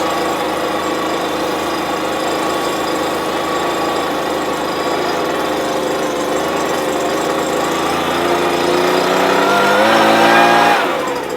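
A Stihl BR200 leaf blower runs at very low throttle among delicate plants, giving a steady, continuous motor drone throughout that swells slightly louder near the end.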